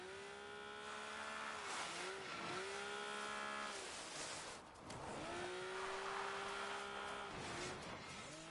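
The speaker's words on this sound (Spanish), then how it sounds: "Una moto. Viene para aquí." A motorcycle approaches in PUBG on PS4, its engine whining in rising and falling tones across two long passes, steady and fairly loud with no talk.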